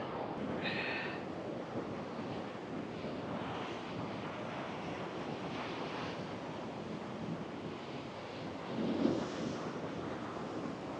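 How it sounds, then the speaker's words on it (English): Big ocean waves roll in at Coos Bay, Oregon, a faint, continuous surf roar mixed with wind buffeting the microphone, with a slightly louder swell near the end. "Man, those are big waves this morning."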